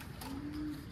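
A pet pigeon settling into a box gives one short, low coo, close by, over a steady background hiss.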